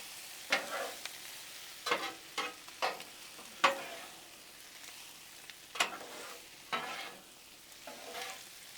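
Shrimp, sausage and garlic stirred on a Blackstone griddle, a steady low sizzle broken by a dozen sharp scraping strokes of a spatula on the flat steel, irregular and close, with no talking.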